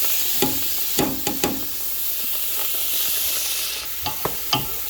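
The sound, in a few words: onions sizzling and being stirred in a pot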